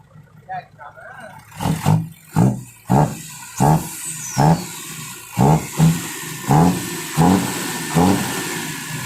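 A tuned Hino 6HH210 diesel engine revs repeatedly in short bursts, each throttle blip rising and falling in a steady rhythm, close by and loud.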